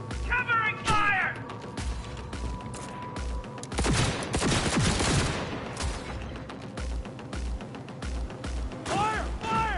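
Bursts of video game gunfire crackle and rattle alongside mechanical clanks and impacts, with shouting voices over the top throughout.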